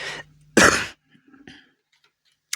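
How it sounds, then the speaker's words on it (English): A person coughing at close range, one short cough then a louder, harsher cough, with faint small sounds and a last brief catch of breath after. "I'm so sorry about coughing again."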